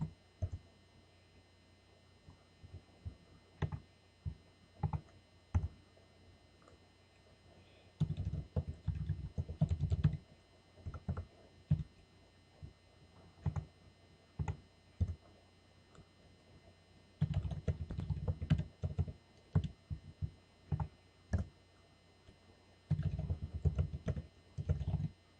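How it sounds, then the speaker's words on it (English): Fast bursts of clicking keystrokes on a computer keyboard while typing references into a resume, coming in clustered runs separated by short pauses and scattered single key taps, with no talking. "I'm going to go ahead and type in my references."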